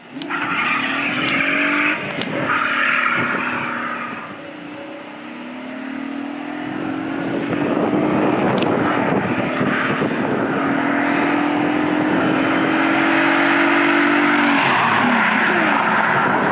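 A Ford Vulcan V6 car engine with a five-speed manual roars steadily, revving up and down through gear changes, loud and close, with a continuous throaty drone throughout.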